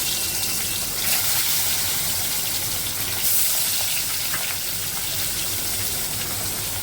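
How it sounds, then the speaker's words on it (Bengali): Bele fish frying in hot oil in a wok, a loud, steady broadband sizzle and crackle running unbroken throughout with no talk. "এবার আমি এই বেলে মাছগুলোকে এক এক করে দিয়ে লাল লাল করে ভেজে নিই।"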